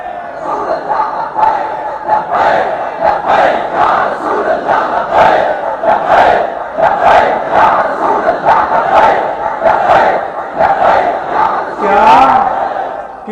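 A large, enthusiastic crowd at a religious rally chants and cheers in loud rhythmic waves, with surges of voices repeating steadily throughout and a final swell near the end.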